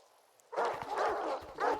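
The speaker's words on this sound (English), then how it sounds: "More dogs." Pack of dogs barking in the video game S.T.A.L.K.E.R. 2: Heart of Chornobyl, a burst of several loud, overlapping yips and barks that starts after a short quiet lead-in and continues steadily.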